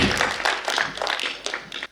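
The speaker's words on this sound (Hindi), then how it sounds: "एक बार जोरदार तालियां बजाइए।" Audience at a Hindi comedy poetry show clapping in a short, uneven burst of claps, fairly close and moderately loud, with no talk over it.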